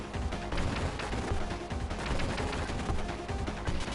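Dense, continuous explosions and rapid gunfire from the Contra video game, loud and relentless with crashing blasts layered over driving game audio, no pauses.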